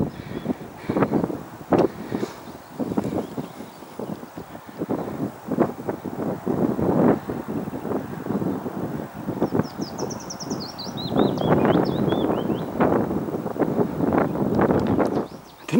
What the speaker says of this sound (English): There's a bit of a wind blowing up here.